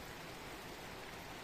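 Rain pours down steadily on a work site where posts are being set up, a dense, even hiss with no breaks or other sounds.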